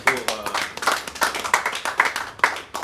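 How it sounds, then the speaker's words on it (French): An audience at an official ceremony for handing over a construction project claps in short, rhythmic bursts for a few seconds, close and moderately loud, with a voice speaking over it. "est-ce que nous pouvons acclamer les seigneurs pour..."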